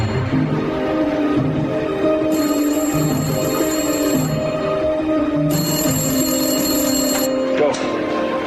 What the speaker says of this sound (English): Find the phone near the clock. It's going to ring in 30 seconds.